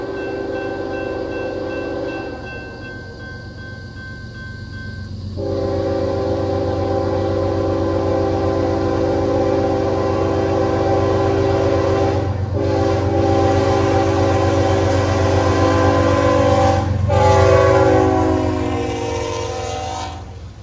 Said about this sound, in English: UP 8081 West heads across the Meridian Speedway